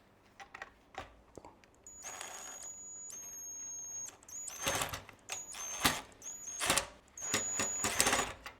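Screwing together a part of a whole house fan: close, irregular mechanical whirring and clicking bursts, with a thin high whine, like a powered screwdriver running in short stops and starts, heard on its own without talk.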